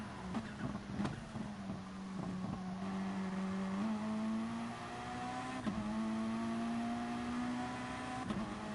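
Race car engine in a racing video game (Formulagary DGT GR3EVO), a steady droning tone that dips under braking and then climbs again, loud and continuous, with a few sharp clicks.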